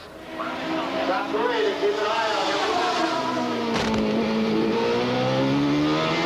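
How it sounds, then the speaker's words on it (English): A 1993 Indycar race car laps the bumpy street circuit at Long Beach in qualifying, its engine droning steadily and loudly with shifting pitch as it passes, while a commentator talks over it. "Not ideal circumstances to attempt a flying lap of a bumpy, tortuous circuit like Long Beach, but Nigel was game."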